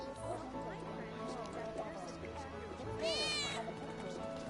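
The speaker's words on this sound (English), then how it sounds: "I think one of Betty's cats might be nearby" Cat meowing in the Final Fantasy VII Remake video game, a short rising meow near the end over busy game music and ambience, with a stray cat nearby in the scene.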